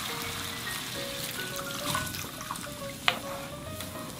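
Homemade anchovy broth being poured into a pot of cooked meat for spicy mushroom stew, making a faint, continuous trickle and splash of liquid in a kitchen, with one sharp clink near the end.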